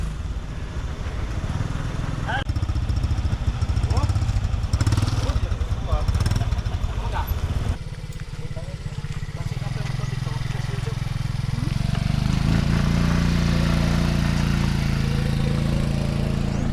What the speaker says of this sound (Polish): O, będą nas podwozić tą motorkiem.